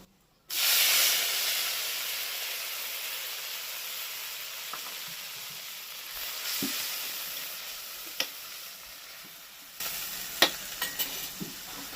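Onion paste hits hot oil left from frying parshe fish, bursting into a loud hissing sizzle that slowly settles, then light spatula taps and scrapes near the end.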